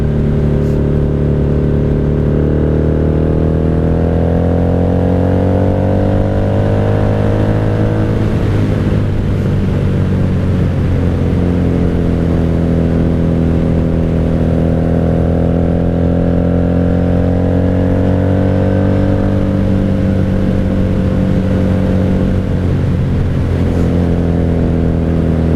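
A 1997 Honda Magna 750 VF750C motorcycle with a Vance Hines exhaust rides along, its engine droning loud and steady close by, pitch rising and falling through gear changes and throttle shifts.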